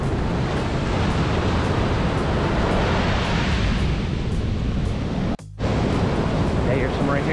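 Ocean waves wash and recede along a Florida beach, a continuous close roar of surf with a brief dropout partway through.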